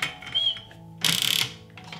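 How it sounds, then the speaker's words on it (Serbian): A 6-litre pressure cooker, holding a litre of water, has its lid closed, giving a short metallic scrape and a rattling clatter midway, with a thin hiss and faint knocks before and after. "Zatvaram ekspres lonac"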